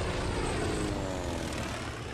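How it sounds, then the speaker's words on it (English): Squadrons of WWII torpedo planes and dive bombers drone overhead, a loud, steady roar of propeller engines with no break. "they launched whole squadrons of torpedo planes and dive bombers"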